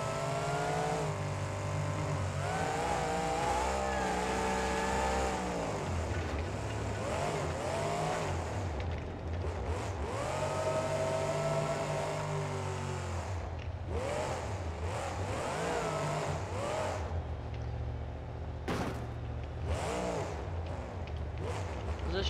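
A large monster truck engine, Monster Energy Mutant, roars and revs repeatedly at a monster truck show in Anaheim, rising and falling in pitch, with crowd noise and an announcer's voice mixed in.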